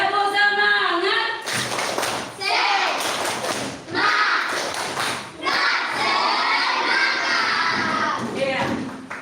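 A class of children performs a rhythmic spirit clap with their teacher, bursts of patterned clapping and thumps mixed with lively children's chanting voices and a sung adult voice, loud and close throughout.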